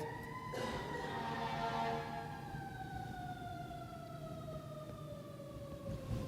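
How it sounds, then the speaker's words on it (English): An emergency vehicle siren wails outside, its long tones sliding steadily downward as it passes and fades, loud and continuous over distant traffic rumble. "Pray for wherever that siren is heading."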